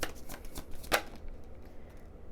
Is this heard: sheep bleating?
no